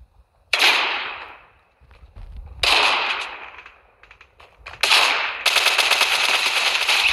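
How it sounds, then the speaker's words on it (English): Shotgun blasts in a video game, three loud booming shots spaced about two seconds apart, each with a long decaying echo, followed by a sustained burst of rapid fire, no voices. "It's a shotgun."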